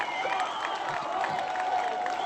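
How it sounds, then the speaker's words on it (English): Indoor audience applauding and cheering for the winner of an art battle tournament, a steady wash of clapping and crowd voices over a brief stretch. "Round of applause. Round of applause."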